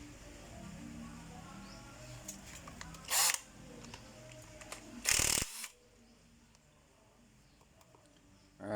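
Two short, sharp bursts of a power tool loosen the cylinder head bolts on a Honda Wave 110 motorcycle engine, heard close against a quiet workshop background.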